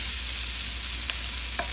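Rice frying with soy sauce in a wok, a steady close sizzle throughout with a few faint clicks of a utensil near the end.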